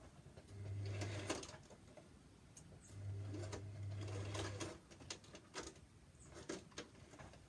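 A sewing machine stitches fabric in two bursts, a short run and then a longer steady one, with faint clicks and handling noises between and after them, quiet and close.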